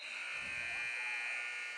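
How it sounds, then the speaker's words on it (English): A basketball end-of-quarter buzzer at a boys' high school game sounds as a sustained, steady electronic drone through the gym, with a brief low thump partway through. "That'll be the buzzer at the end of 3."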